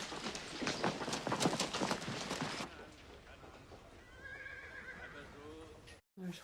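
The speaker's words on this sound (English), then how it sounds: "There's horses." Horses whinny and hooves clip-clop in a wartime drama scene, with loud broadband bustle for the first few seconds, then quieter rising neighs toward the end, cut by a brief silence.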